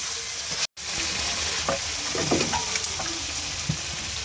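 Mutton going into hot spiced oil in a pot, a sudden loud sizzle after a brief cut, then continuous close frying hiss with a few clinks and stirring sounds.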